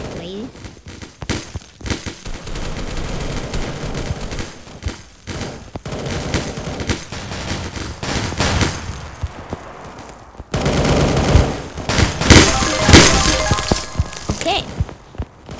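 Dense bursts of video game gunfire during a second enemy wave, rapid automatic fire and cracks coming in clusters, growing louder near the end, with a voice talking over the shooting.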